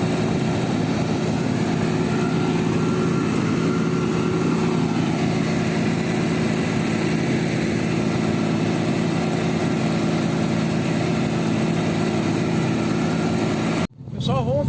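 A 2011 New Holland TC 5070 combine harvester with a three-cylinder rotary threshing system runs steadily while harvesting wheat, a loud, continuous engine drone and mechanical hum close by, ending in a sudden brief cut near the finish.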